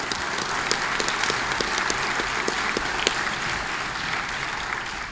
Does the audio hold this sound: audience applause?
yes